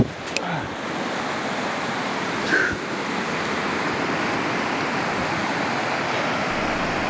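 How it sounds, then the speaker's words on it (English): An Alaskan river flows with a steady, continuous broadband rush, unbroken by any voices. "Take a look at this river."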